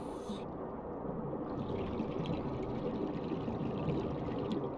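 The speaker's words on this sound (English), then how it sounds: "The inflow vent is drawing water from the surrounding area and pumping it to an unknown location below the surface." Water being drawn in and pumped through an ancient alien inflow vent deep underwater in Subnautica, a steady rushing, pouring wash with a low rumble that continues without a break.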